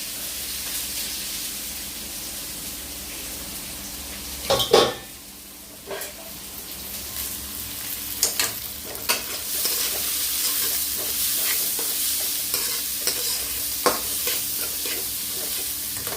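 Finely chopped onion fries in oil with cumin seeds in a pan, giving a steady close sizzle with occasional scrapes and knocks of a utensil stirring against the pan, and no talking.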